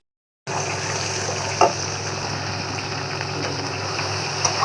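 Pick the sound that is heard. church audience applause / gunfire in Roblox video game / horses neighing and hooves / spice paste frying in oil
spice paste frying in oil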